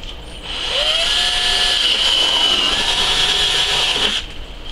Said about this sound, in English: you need a 3/8 inch bit, drill bit, and we're going to drill right about the center of the bucket.